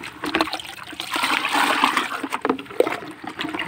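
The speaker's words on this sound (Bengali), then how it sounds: "এখন আমি বাঁক দিয়ে ভালো করে পানিটা" Water is stirred and sloshed by hand in a container while mixing a poultry vaccine solution for broiler chickens, a close splashing swirl lasting a few seconds.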